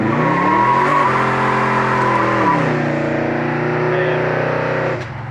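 A 1969 Chevelle SS on a test drive, its engine droning loud and close with steady tone and gear-change shifts in pitch, the sound dropping slightly as it eases off at the end.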